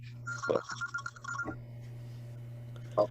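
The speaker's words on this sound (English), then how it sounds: "Phone call." A telephone rings quietly in the background during an interview, giving a couple of brief electronic trills over a steady low hum.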